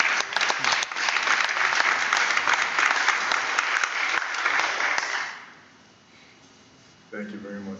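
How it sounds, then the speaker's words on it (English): An audience in a school board meeting auditorium claps loudly and steadily for several seconds, then the applause fades away and a voice begins speaking. "All right, another round of applause, please."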